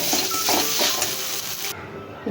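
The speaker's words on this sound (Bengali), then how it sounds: "এবারে ঝোল দিয়ে দেব।" Broth poured into a pan of frying curry masala with turmeric, salt and chilli powder, producing a loud hissing sizzle that surges in pulses and then cuts off sharply.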